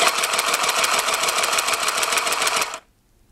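Child's toy sewing machine stitching fabric, a rapid steady mechanical whirring clatter close up that runs for under three seconds and then stops abruptly into silence.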